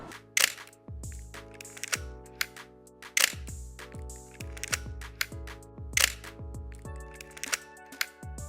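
Repeated mechanical clicks and snaps of a Nikon F3 film camera shutter and film advance, firing about a dozen times at an uneven pace over several seconds, close and crisp with no talking.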